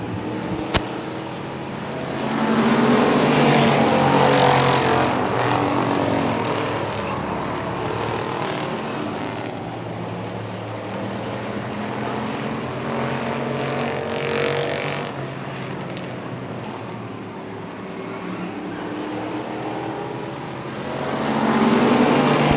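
Pro4 race cars roaring around Punta Gorda Speedway, loud engine passes swelling and fading as the pack goes by, heard alone without commentary.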